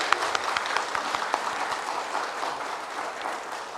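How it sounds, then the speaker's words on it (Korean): A church congregation at a Sunday service applauds to welcome new members, an even, sustained wash of many hands clapping with scattered sharper claps near the start. "박수로 우리 환영해 주시기 바랍니다"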